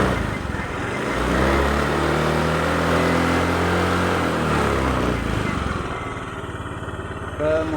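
The engine of a Honda Beat injection scooter with hesitation on initial throttle revs up as the throttle is twisted, rising in pitch then settling back toward idle, close and loud throughout.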